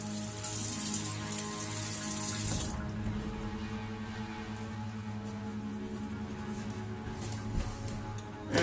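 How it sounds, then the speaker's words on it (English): Water runs steadily from a tap as a shaving soap bowl gets a quick rinse, loud and continuous at first, then dropping to a softer trickle and splash for the remaining seconds. "So we'll get this a quick rinse off."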